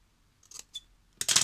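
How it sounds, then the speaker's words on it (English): Scissors snipping paper for a vintage envelope pocket, a few short crisp cuts close by and fairly quiet, ending in a louder burst of rustling snips. "here with my scissors I'm gonna follow the shape"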